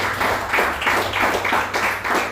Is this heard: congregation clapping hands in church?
yes